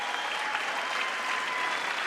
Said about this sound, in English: The applause sign came on too early.